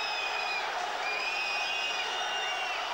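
A football stadium crowd at a GAK versus Rapid match, a broad steady roar of many voices with scattered whistles and whoops, continuous and distant-sounding throughout.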